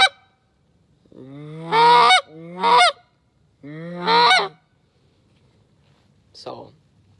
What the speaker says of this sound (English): that's kind of it for goose calling.